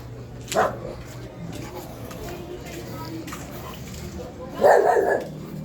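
Two separate dog barks sound over a steady outdoor background, one early and one louder near the end, with faint murmuring around them.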